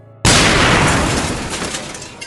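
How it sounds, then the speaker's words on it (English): A sudden loud metal explosion bursts in after a short quiet moment, a broad crashing blast that slowly rolls off with scattered debris rattling through the tail. "An explosion of metal sent debris flying over their heads"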